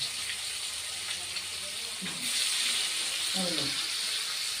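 Fish frying in a pan gives a steady, hissing sizzle that grows a little louder partway through, with brief soft voice-like sounds near the end.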